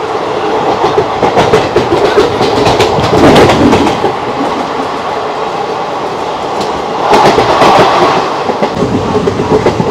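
Hazarduari Express train running from Kolkata to Lalgola, a steady loud rumble of carriages with clickety-clack wheel rhythm heard from inside, swelling louder at moments.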